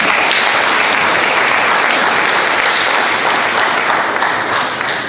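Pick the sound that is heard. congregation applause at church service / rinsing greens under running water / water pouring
congregation applause at church service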